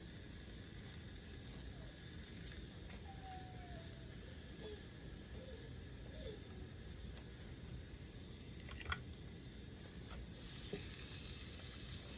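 Hamburger patties frying in their own grease give off a steady, even sizzle that holds through the whole stretch with no talk, broken only by a couple of faint clicks.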